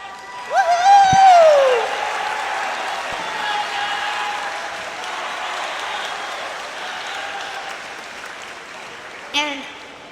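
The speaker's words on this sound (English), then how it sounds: "so we can applaud you" Room full of people breaking into warm applause for the team's family members at a girls' basketball award ceremony, a voice and brief tones over the start, clapping sustained then fading with a short burst at the end.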